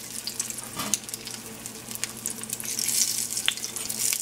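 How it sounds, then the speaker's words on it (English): Coated tofu chunks frying in a pan for popcorn tofu, a bright crackling sizzle that builds slightly, with a couple of soft knocks, near and moderately quiet. "So you're just gonna put it in the pan and fry."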